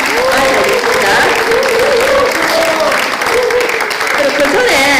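Applause from a crowd at a rally in Busan welcoming a guest to the stage, a loud, dense wash of clapping that continues steadily throughout with voices and cheering mixed in.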